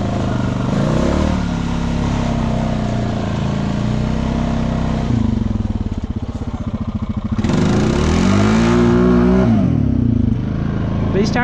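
A Honda Rancher ATV on 32-inch Aztex tires, spinning in mud, with its engine revving loud and close in rising and falling surges and a rattling burst midway. A voice talks over the engine noise.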